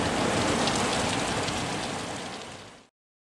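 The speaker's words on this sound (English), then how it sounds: "Heavy rain." Heavy rain pours down outside a house under renovation, a dense, loud, unbroken hiss that fades out abruptly near the end.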